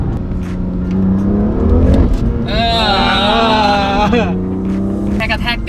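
A BMW M2 Competition coupe with a seven-speed gearbox revs hard, its engine note climbing and shifting loudly from inside the cabin while someone talks over it.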